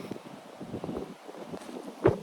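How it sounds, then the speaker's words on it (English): Wind blows outdoors at a wooded campsite by the water, a soft, steady rush with gusty swells and a brief louder buffet at the end. "it is kind of windy"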